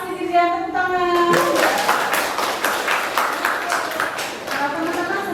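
A classroom of pupils bursts into dense, lively clapping during a lesson, right after a short spoken cue at the start. The applause continues steadily to the end.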